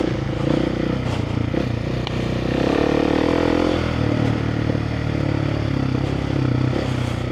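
A KTM 690 Enduro R single-cylinder motorcycle ridden off-road at a steady pace, its engine droning loud and close with a slight rise in revs, mixed with rattling and scraping from the bike over rough ground.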